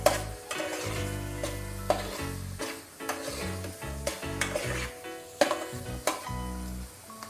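Chili powder fries in a pot for Nellore fish curry, stirred with a spoon that scrapes and knocks against the metal in repeated strokes over a soft, constant sizzle.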